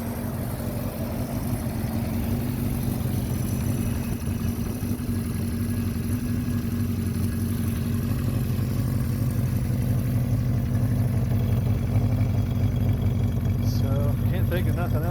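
A 1975 Honda CB400F Supersport motorcycle idles close by, its engine holding a steady, continuous low thrum for the whole stretch with no revving.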